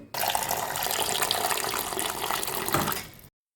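Tap water runs steadily into a sink as tamarind is rinsed for a fish curry, a continuous close splashing stream that stops abruptly just after three seconds.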